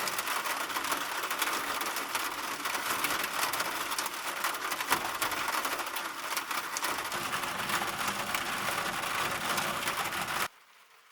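Steady rain in the mountains hisses and patters close by without a break, then cuts off abruptly near the end.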